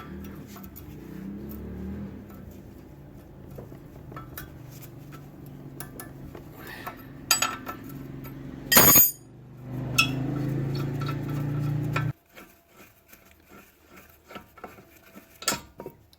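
A wrench works 19mm brake caliper bracket bolts on a 2002-2006 Nissan Altima front brake, with metallic clinks, a sharp ratcheting burst, a steady mechanical whir that cuts off, then scattered clanks of loosened parts.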